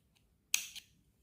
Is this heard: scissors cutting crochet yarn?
yes